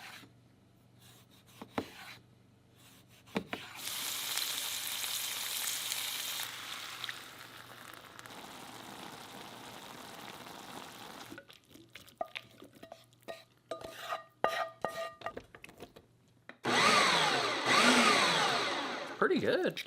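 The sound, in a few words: caribou liver, onions, garlic, potato frying in pan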